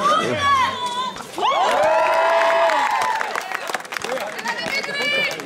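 A crowd at a basketball final shouts and cheers loudly, with whistles, piercing high calls and children's voices rising and falling over a dense roar of babble, close and continuous.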